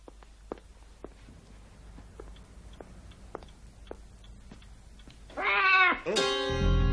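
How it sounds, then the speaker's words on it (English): Indoors, quiet footsteps and small taps are followed near the end by a cat's loud, close meow, then a second drawn-out meow. "I didn't know you had a cat."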